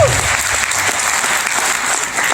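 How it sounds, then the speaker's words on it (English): Loud, dense audience applause fills a township event hall, an even wash of clapping with a faint voice at the start. "So can we please give them another round of applause?"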